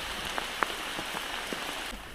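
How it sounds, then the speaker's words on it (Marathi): Heavy rain at Sajjangad fort, a steady wash of rainfall with a few sharper drop impacts on a nearby surface, fairly faint and even. "सज्जनगडावर पावसानं जोरदार स्वागत केलं आहे आपलं"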